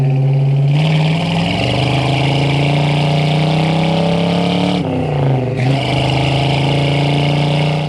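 A 1971 Ford Mustang Mach 1 with its original 351C V8 and four-speed manual revs loudly and steadily close by, the engine note climbing through sustained throttle, dipping briefly as it shifts, then pulling hard again.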